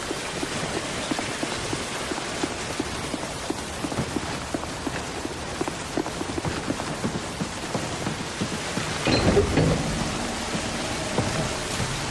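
Heavy pouring rain in The Bureau: XCOM Declassified video game, a steady dense hiss that holds evenly throughout, with a louder burst near the end.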